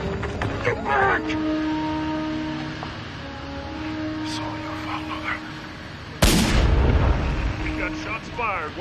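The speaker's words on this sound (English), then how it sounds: "Shots fired. One hostage down." A single loud gunshot booms during a tense hostage standoff in a TV drama scene, cutting sharply through tonal background music and tense voices before its echo fades.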